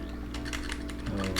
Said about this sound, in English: I have a hard time typing position, huh?